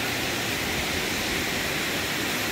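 A waterfall in the Seychelles rushes steadily behind the scene, a dense, loud, unbroken roar of falling water filling the whole clip without any voices.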